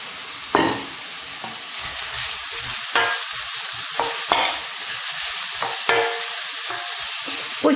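Carrots tipped into onions already browned in a frying pan hiss with a steady sizzle, broken by repeated scraping stirs of a utensil against the pan, close and alone.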